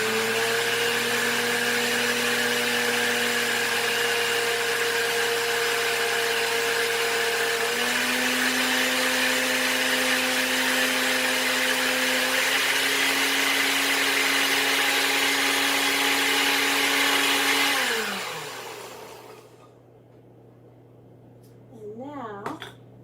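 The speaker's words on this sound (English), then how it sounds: "So now we are going to blend this together." A kitchen blender whirs loudly and steadily while blending ingredients for a Thai noodle salad, its motor pitch stepping up slightly before it winds down and stops near the end, leaving near silence.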